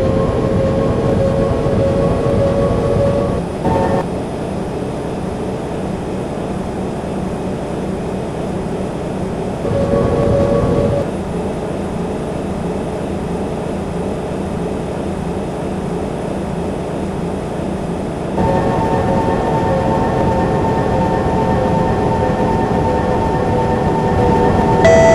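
Kawasaki C151 metro train on the Changi Airport Line between Expo and Tanah Merah, simulated in openBVE: a steady, loud running rumble with whining motor tones that rise and settle in stages, with no talking.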